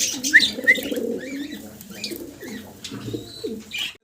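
Sherazi pigeons coo close by at a pigeon farm, a run of deep rolling coos with a few higher chirps from other birds in the background, fairly loud and continuous.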